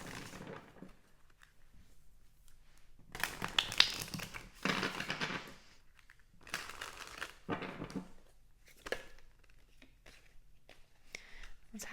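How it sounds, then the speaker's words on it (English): Tarot cards being shuffled in bursts of crisp riffling and crinkling, with sharp flurries separated by quieter pauses, close and moderately loud, with no talking over it. "As I'm shuffling"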